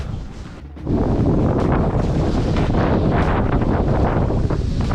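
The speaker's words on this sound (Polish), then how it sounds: "Faktycznie wieje." Strong wind buffets the microphone beside a popular fishing reservoir, a dense, continuous roar that swells suddenly after a brief lull and stays loud to the end.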